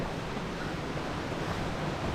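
Water rushes in a steady, loud wash near Saatsada waterfall in Maharashtra, a constant broadband roar with no voices.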